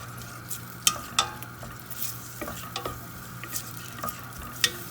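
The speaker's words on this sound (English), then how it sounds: "I have to make sure my onion is brown, so we are toasting it small." Onion browns in olive oil in a pan with a soft, constant sizzle, while a spoon scrapes and taps against the metal in irregular strokes.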